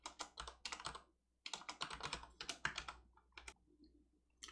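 Rapid typing on a computer keyboard during coding work, including a press of the @ key, with dense clusters of close, crisp key clicks separated by short pauses, no voices.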